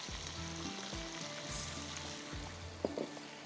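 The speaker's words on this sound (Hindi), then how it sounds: "इसको हमने करना है अच्छी तरह से फ्राई" Cauliflower frying in hot oil with asafoetida for gobi masala, a soft continuous sizzle close by, fairly quiet, with a brief clatter near the end.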